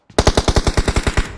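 A rapid burst of about eleven evenly spaced automatic gunshots from the video game PUBG Mobile, loud and close, with no talk over it.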